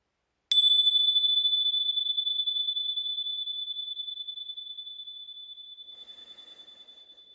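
A single morning gong or cymbal is struck once, ringing with a sustained bright metallic tone that decays slowly over several seconds in an otherwise quiet room.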